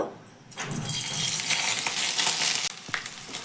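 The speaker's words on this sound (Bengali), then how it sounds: "এবার ম্যারিনেট করে রাখা বা মশলাটা মাখিয়ে রাখা সয়াবিনটা আমি তেলের মধ্যে দিয়ে দেব" Marinated soybean chunks go into very hot oil and fry with a steady, bright sizzle that swells and holds, with a few sharp crackles and pops near the end.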